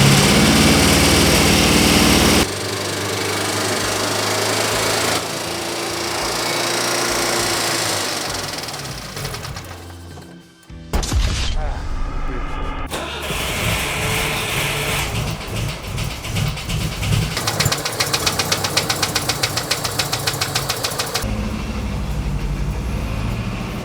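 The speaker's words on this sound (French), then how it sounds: "C'est quand même une Alfa Romeo qui va démarrer une autre voiture." Abandoned Citroën GSA flat engine cranking and catching after a jump start from an Alfa Romeo, settling into a loud, busy idle with uneven rhythmic pulsing, a brief dip as it nearly stalls, then revving again.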